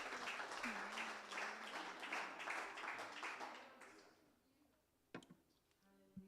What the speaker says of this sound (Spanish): Bríndale un fuerte aplauso